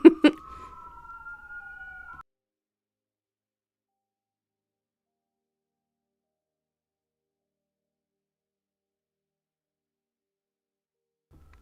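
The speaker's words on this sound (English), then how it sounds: "Apologies for the sirens in the background. It is Philly after all." Emergency vehicle siren in Philadelphia, a wailing tone that sweeps for about two seconds at the start, fairly clear, then cuts off into near silence.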